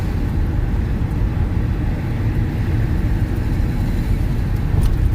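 A car drives along the road, giving a steady, loud low rumble of engine and road noise throughout, with no talking.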